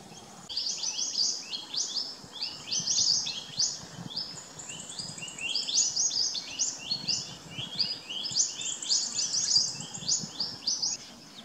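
Verditer flycatcher (Eumyias thalassinus) repeatedly calling with bright, high chirping phrases in a steady run, close and clear over faint background hiss.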